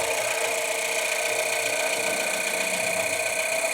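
A Nissan 1.2 DIG-T petrol engine with a newly replaced timing chain idles smoothly after its first start, giving a steady, even, fine-ticking whir that holds unchanged throughout.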